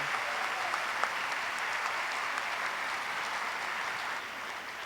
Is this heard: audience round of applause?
yes